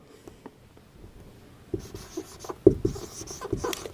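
Chalk or marker scratches across a board during a Hindi-language chemistry lesson on naming coordination compounds, faint at first and then a cluster of short, firmer strokes and taps in a quiet room.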